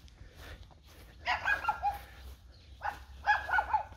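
A dog outdoors in a rural village gives two clusters of yipping, whimpering barks, the second after a short pause, moderately near and fairly loud over a low ambient rumble.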